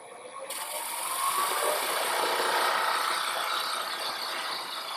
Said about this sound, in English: Let me shut the lathe off and leave the tool right where it is.